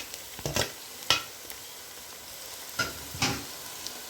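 Ginger garlic tossed into a pan of browned onions for a mutton curry sizzles and crackles steadily up close, with a few sharper stirring scrapes and spits standing out.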